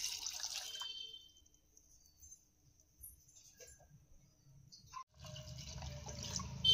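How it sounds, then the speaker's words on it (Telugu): Water poured into a pot of washed raw tamarinds: a few faint drips and light taps in near silence, then a steady, close pouring rush that begins late and runs to the end. "ఇప్పుడు శుభ్రంగా కడుక్కున్న చింతకాయలు అయితే 2 గ్లాసులు వాటర్ని అయితే వేసుకోవాలి"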